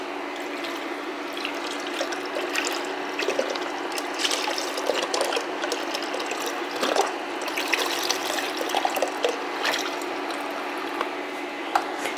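Chicken broth pours into a pot of crushed tomatoes for Hungarian goulash, a close, continuous liquid trickle and splash that keeps going for about twelve seconds with small bubbling spurts.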